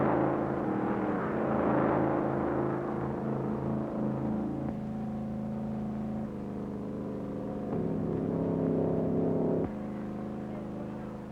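Ab Jenkins drives an Auburn car at the Bonneville Salt Flats, its engine droning steadily and shifting pitch in stepped stages as it roars on, with faint talk underneath.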